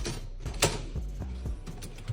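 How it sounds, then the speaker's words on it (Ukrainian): A dishwasher rack, the height-adjustable second basket of a Miele G 4860 SCVI 45 cm fully integrated machine, clicks and rattles. A sharp knock is followed by a few soft mechanical clunks over about two seconds, close up with no talk. "Другий ящик регулюється по висоті."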